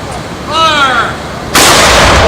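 A single cannon of a 21-cannon salute fires with a sudden, loud, close boom that follows a brief shouted call and rolls on to the end.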